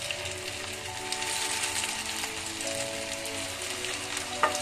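Pieces of chicken 65 frying in oil over a medium flame, a steady soft sizzle and crackle with faint hums of background noise and one sharp clink near the end.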